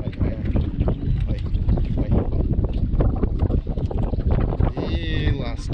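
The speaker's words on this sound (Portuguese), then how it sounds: "É vento que Deus manda pra nós." Strong wind buffets the microphone in gusty rumbles on a fishing boat at Anaurilândia, Mato Grosso do Sul, Brazil, with water and boat noise around and brief murmurs of voices underneath.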